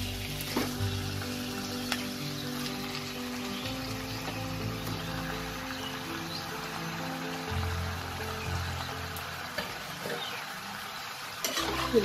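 Chicken pieces frying in a spiced masala for palak chicken, giving a steady, close sizzle with scattered crackles and a few stirring knocks throughout, with no talk.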